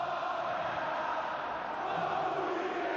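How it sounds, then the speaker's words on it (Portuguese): Vasco fans roar in a packed football stadium during a Carioca championship final: a continuous, massed crowd din of chanting and shouting, steady and distant, with no single voice standing out. "E agora a torcida do Vasco faz barulho"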